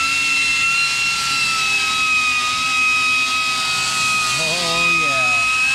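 A small 4-inch angle grinder runs steadily against an aluminum wheel during repair, a loud continuous high whine with bright tonal lines, shifting pitch briefly near the end as load changes.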